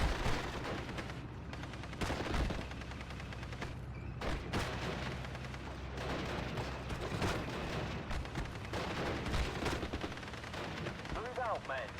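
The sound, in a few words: Bren gun group firing in the video game Steel Division: Normandy 44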